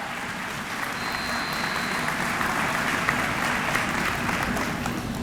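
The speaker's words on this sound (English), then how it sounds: "Please applaud our staff." A commencement audience applauding the staff: steady, moderate clapping from a large crowd, continuous and even throughout without voices.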